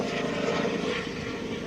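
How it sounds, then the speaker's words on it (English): A medevac training helicopter passes overhead, producing a steady, even engine-and-rotor drone that fills the whole stretch at moderate loudness with no voices over it. "that is not a police helicopter, that's a medevac helicopter"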